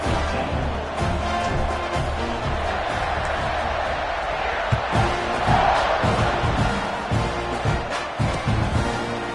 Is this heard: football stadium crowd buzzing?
yes